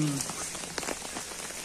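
Steady rain falls around a wet university hostel, a dense, even patter of drops on surfaces that holds close and constant throughout with no one speaking.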